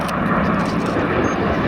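Supermarine Spitfire single-engine fighter plane making a pass from the right, its engine a loud, steady, close roar that fills the whole stretch without letting up.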